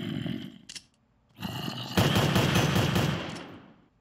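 Automatic gunfire from a modded gun in the Minecraft video game rattles in loud rapid bursts, a short volley, a pause, then a sustained stream of shots that trails off, with no speech over it.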